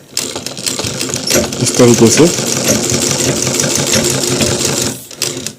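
Sewing machine stitching a bone pocket onto a coat, running steadily and loudly with a fast rhythmic whir for most of the clip while someone talks over it, then stopping near the end.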